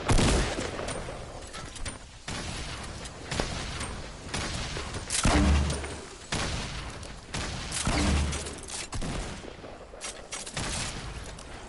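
Rapid bursts of gunfire from the video game Fortnite crackle in dense, repeated volleys with occasional heavier booms, loud and continuous throughout.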